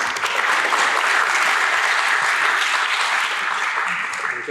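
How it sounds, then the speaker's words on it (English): An audience applauding in a lecture hall to welcome a speaker, dense continuous clapping at an even level from start to finish, close and full, with no talk over it. "Let's give a warm welcome and round of applause to Michael Bronstein."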